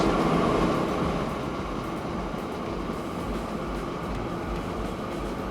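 Trains running in the video game Train Fever give a steady, dense rumble with a broad, even roar that stays loud and continuous, with no talk over it.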